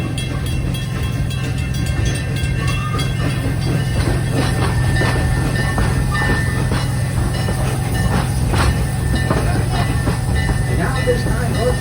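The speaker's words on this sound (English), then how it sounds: "our train is now slowly pulling into our Congo station" The Serengeti Express train at Busch Gardens Tampa Bay rumbles steadily with low mechanical noise and faint clacks, slowing as it rolls into a station, loud and close throughout.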